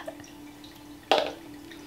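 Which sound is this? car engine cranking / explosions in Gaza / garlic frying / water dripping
water dripping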